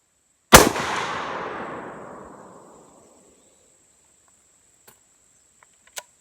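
A single loud, close rifle shot from a .458 Winchester Magnum firing a 500 grain Swift A-Frame Norma load, a sharp crack with a long rolling decay over about two seconds, then quiet with a couple of faint clicks.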